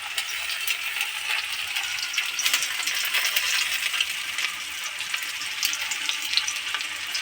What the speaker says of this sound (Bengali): এখানে পেঁয়াজ দিয়ে দিচ্ছে তেলেতে।